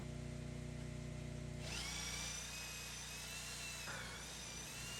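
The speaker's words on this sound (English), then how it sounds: "I'm drilling the holes a 1/4 inch deeper than my tenons." A power drill with a depth gauge bores deep holes into wood for tenons, a steady high whine that starts after a quiet opening and dips briefly near the end, close and alone.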